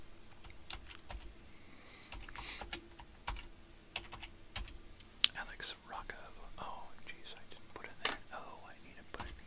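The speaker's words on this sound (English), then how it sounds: "now I think I'll take that and I'll type in Alex Rocco" Computer keyboard keys clatter in quick irregular bursts, close and crisp, while a person whispers and talks softly over the typing.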